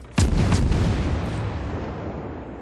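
The German destroyer V-25's guns firing in a naval combat game: one sharp, loud close blast followed by a rumbling boom that slowly decays over a couple of seconds, with no talk.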